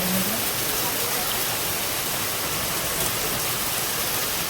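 Heavy, sudden monsoon rain pours down in a dense, steady hiss that stays loud and close without a break.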